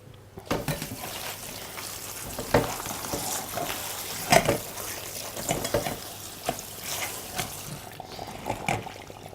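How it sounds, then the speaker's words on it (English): Lettuce is washed under running water, with a steady close rush from the tap and irregular splashes and knocks as the leaves are handled. "We're going to wash our lettuce"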